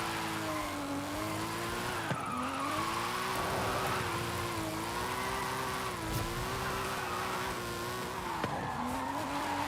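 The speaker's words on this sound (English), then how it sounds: "The Supra drifts really nice." A Supra drifting in the Forza racing game, its tires squealing in long wavering tones over a revving engine, the screech rising and falling continuously as the car slides, loud and close.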